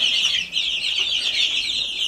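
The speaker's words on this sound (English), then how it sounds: "So the chicks are doing fine, as you can see here." A dense, continuous chorus of high-pitched cheeping from many young chicks, close by and steady throughout.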